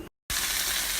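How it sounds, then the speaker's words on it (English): Broccoli hits hot oil in a wok and erupts into a loud, steady sizzle after a brief moment of silence, a dense hiss heard alone. "So if you can't tell by the sizzling"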